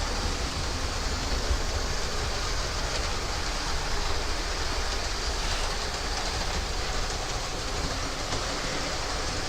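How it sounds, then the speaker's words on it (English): Trains run continuously throughout, a steady, loud rumble and rattle with no pauses and no voices. "Now I know the trains are a little bit noisy, but I'm going to run them for a little while."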